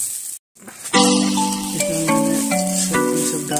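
Poha frying in a pan with a little turmeric gives a steady, close sizzle after a brief silence, with soft stirring scrapes over the continuous frying hiss.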